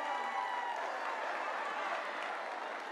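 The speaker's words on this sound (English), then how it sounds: "Give her a hand clap." Steady applause from a group at a dance recital fills the whole stretch, a dense wash of clapping at even loudness with no clear voices on top.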